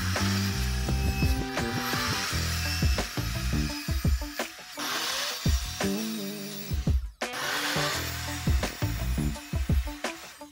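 Wood strips being sawn at 45-degree angles for picture frames, close and loud, with bursts of cutting broken by short pauses and sharp knocks as pieces are handled.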